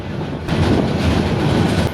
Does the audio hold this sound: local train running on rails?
yes